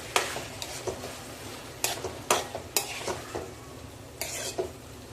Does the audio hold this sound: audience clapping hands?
no